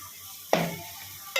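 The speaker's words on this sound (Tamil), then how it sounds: "2 ஸ்பூன் நல்லா தலை தட்டி மிளகாய் தூள் போட்டாச்சு. அதுக்கப்புறம் இது வந்து நல்லா வதங்கணும்." Green chillies and chilli powder sautéing in oil for Chettinad chicken gravy, a quiet sizzle broken by one sharp close stir-and-scrape burst and a brief second clack near the end.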